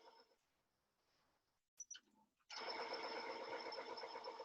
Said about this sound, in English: that's my printer right next to me. It's self-cleaning.